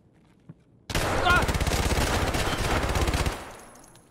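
A PPSh submachine gun in a first-person shooter game fires one long, loud, continuous automatic burst lasting a few seconds, then its echo fades out.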